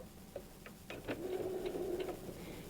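A sewing machine back tacks while joining pillow pieces, a faint, quick run of short mechanical stitching clicks and a brief whirring motor, heard close in a quiet room.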